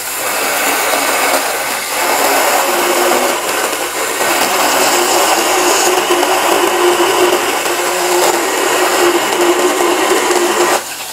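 An HL CCS5112 18V cordless chainsaw cuts through wood, giving a steady, loud, high-pitched buzzing whine that holds for several seconds and eases off briefly near the end.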